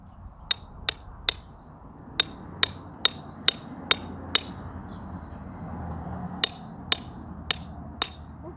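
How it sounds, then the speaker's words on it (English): Sharp metallic taps of a hammer striking a chisel to crack open a geode, delivered in quick bursts of three to four blows separated by short pauses, close and ringing. "that leaves us with a hammer and chisel."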